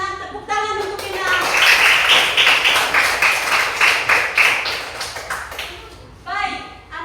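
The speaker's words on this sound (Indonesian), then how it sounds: "tepuk tangan" A class of children claps hands together, a dense burst of applause lasting several seconds, with a voice and a teacher speaking briefly before and after.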